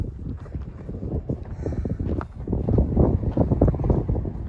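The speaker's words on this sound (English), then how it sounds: "Ooh, the wind is kicking up." Wind gusting across a hiking trail at Palo Duro Canyon State Park, a steady rumbling buffet on the microphone with rustling, no voices.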